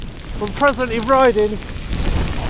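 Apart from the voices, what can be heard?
heavy hailstorm while cycling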